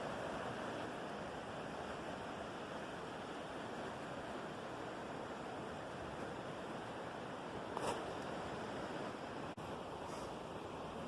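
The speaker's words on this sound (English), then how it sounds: "enjoy the quiet of the forest, sound of the river." A slow, mellow river flows through a forest canyon with shale rock hillsides, giving a steady broadband rush that holds evenly throughout, with a couple of faint brief ticks near the end and no voices.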